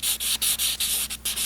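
Light, quick strokes of 2000 grit sandpaper rub across knife handle scales, about seven close, even back-and-forth passes with no talk.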